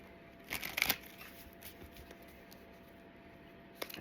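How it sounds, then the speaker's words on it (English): Tarot cards are shuffled by hand in a quiet room, giving a brief soft riffling flurry followed by faint scattered card taps and a final light snap. "one more shuffle and we'll get some energy on the table."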